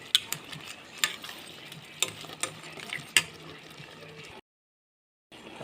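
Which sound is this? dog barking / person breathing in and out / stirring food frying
stirring food frying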